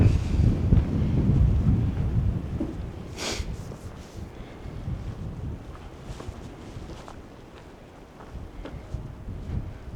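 Wind blows strongly across open water beneath cliffs in Montana, a steady low rushing roar with buffeting on the microphone and one brief brighter gust midway, no voices.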